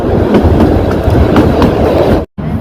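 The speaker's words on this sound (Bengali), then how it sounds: "মাঝখান দিয়ে আমাদের টয় ট্রেন চলে যাচ্ছে" Kalka-Shimla toy train rolling through pine forest, a steady close rumble with rhythmic clickety-clack of wheels on rail joints, briefly cut by a short gap near the end.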